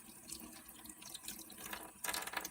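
Tap water runs over eco-printed fabric pieces as they are rinsed in a sink, a quiet continuous splash with irregular gurgles that grows louder and fuller near the end.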